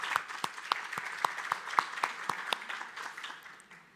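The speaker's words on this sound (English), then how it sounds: "I would call everybody please to give a round of applause for Croatian people." A small conference audience at an agriculture and food policy presentation claps, with sharp individual hand claps standing out in an uneven rhythm before slowly thinning out, and no talking over them.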